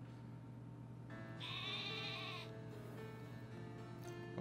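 A sheep-like Pokemon in Pokemon Sword gives one drawn-out wavering bleat, close and clear, over a soft steady game background hum.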